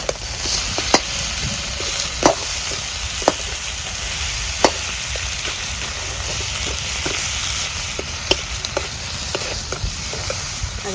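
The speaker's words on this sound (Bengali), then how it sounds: "বড় মাছের মাথাটা আমি ভাঙ্গা ভাজতেছি, একেবারে আমি ভালো করে ভাজতে নিই।" A large fish head, broken into pieces, frying in oil in a pan, with a steady dense sizzle and sharp scraping clicks of a spatula stirring and turning it at irregular intervals throughout.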